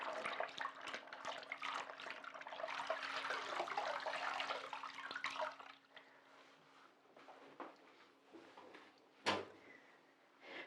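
Water splashes and sloshes in a basin as lingerie is washed by hand, a steady busy swishing for about six seconds that then drops to quieter trickles with one sharp knock near the end.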